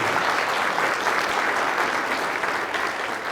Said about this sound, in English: Could we have a round of applause for those fine souls?